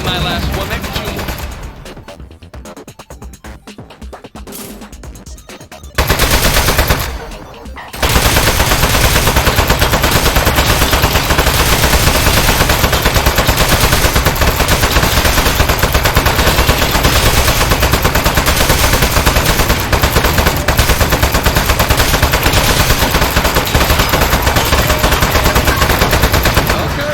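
Turrets in the video game Aperture Desk Job firing in long, loud automatic bursts, a dense continuous rattle after a few seconds of scattered clicks and quieter sounds.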